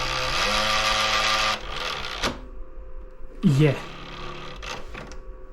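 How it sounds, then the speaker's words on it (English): A faulty game console disc tray grinds and whirs mechanically, then goes quiet before clunking and whirring again in a couple of shorter bursts. A voice speaks briefly near the end. "there's a problem with the disc tray"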